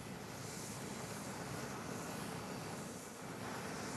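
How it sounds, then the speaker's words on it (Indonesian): A steady, broad roar of jet engines rises from Air Force One landing at Paya Lebar Air Base, fairly faint and unbroken, mixed with wind noise and no voices. "Trump mendarat di Pangkalan Udara Militer Paya Lebar dengan pesawat kenegaraan Air Force One."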